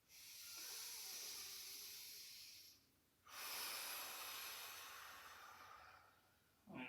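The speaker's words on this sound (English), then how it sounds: "take a few deep breaths to settle into your body. In through your nose and out through your mouth" Slow, deep breathing, drawing air in through the nose and letting it out through the mouth during a seated yoga session, with two long close breath sounds, soft and airy, separated by a brief pause.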